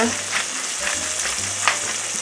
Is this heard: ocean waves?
no